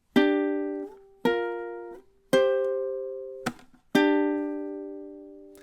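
Ukulele strums out one measure of a riff: five plucked chord hits in a steady rhythm, each ringing and decaying, close and clear with no voices.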